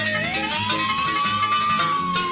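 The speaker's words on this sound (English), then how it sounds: "the Lexus takes off with the police car in hot pursuit" Police car siren wailing in a rising and falling tone during a pursuit of a Lexus, loud and close, sounding alone over steady road rumble.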